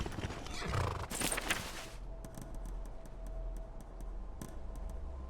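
Horse hooves clip-clop in the video game Skyrim, a run of crisp, evenly spaced clicks over a low ambient hum after a louder burst of game sound.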